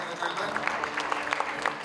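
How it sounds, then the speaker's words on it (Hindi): Brief, dense applause from an award-ceremony audience at the Sarvottam Nagrik Samman 2026, many hands clapping together at close range with a faint crowd murmur beneath. "जी के तालियां हो जाए"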